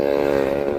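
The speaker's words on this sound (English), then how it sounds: "Here comes a moped." A moped buzzing past on a Chicago street, a loud, close, steady engine drone with a strong tonal whine that holds for under a second.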